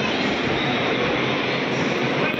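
A toy ride-on train runs through a busy shopping mall at Christmas, a steady loud rumble and clatter of wheels that holds unbroken and close throughout, with no clear voices on top.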